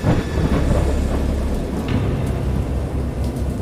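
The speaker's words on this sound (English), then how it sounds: "I heard pearls of thunder and other tones which nature utters only in her wildest moods" A loud thunderstorm in a video game, with heavy, steady rain and deep rolling thunder rumbling continuously underneath.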